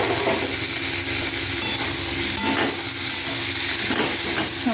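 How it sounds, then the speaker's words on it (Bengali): Chopped tomatoes go into a pan of frying cauliflower and potatoes, with steady loud sizzling and crackling, a few stirring scrapes and sharp spikes as the wet pieces hit the hot oil. "কিন্তু টমেটো কুচিগুলো এখানে দিয়ে দেবো।"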